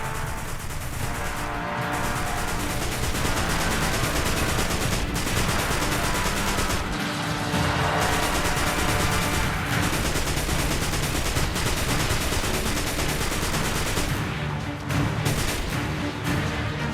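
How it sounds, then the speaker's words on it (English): Dense, continuous gunfire in a Destiny Rising battle, rapid automatic fire with brief gaps and heavier blasts, loud and relentless for the whole stretch without any talking. "Keep firing! Don't give them a chance to attack!"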